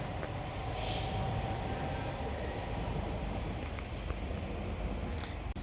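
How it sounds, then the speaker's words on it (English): A Northern Class 195 train arriving at Oxenholme station on the West Coast Main Line from Windermere, a steady rumble and rolling wheel noise with a faint squeal, continuous and fairly close without speech. "And terminating in now is going to be a Northern Class 195."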